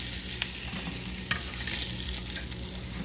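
Meatballs frying in a crowded pan give a steady soft sizzle and crackle with a few faint clinks, heard alone at low level.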